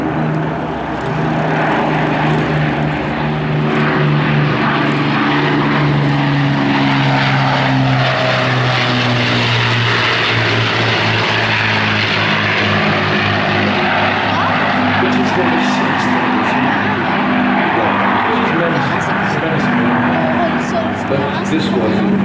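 A Battle of Britain Memorial Flight bomber with four Merlin engines drones loudly and steadily overhead at a flying display, its propeller roar swelling slightly as it passes, with people talking underneath.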